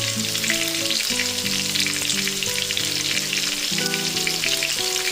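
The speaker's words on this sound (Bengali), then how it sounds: "ভাজতে থাকবো" Mushrooms fry in a pan with salt and turmeric, giving a steady, close, even sizzle that holds without pause for several seconds, with no talking.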